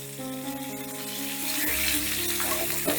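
Chopped vegetables fry in a pan for a Bengali lau shaak dal dish, giving a steady close sizzle that swells louder partway through, with no talking.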